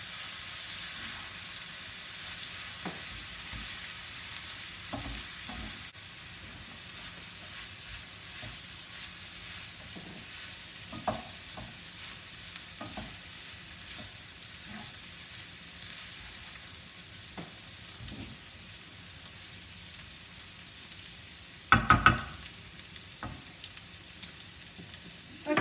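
Mince for a shepherd's pie frying in a pan and being stirred, a quiet steady sizzle with soft scraping and stirring touches, and a louder clatter near the end.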